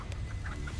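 A chicken clucks in the video game Hogwarts Legacy, a few soft, short clucks over a steady low game-ambience hum, fairly faint.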